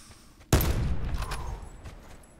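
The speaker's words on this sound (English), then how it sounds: "I'm not sure where the fuck those shots were coming from" A sudden loud burst of gunfire rings out in a multiplayer shooter video game, several overlapping shots decaying into a rattling tail after a quiet start.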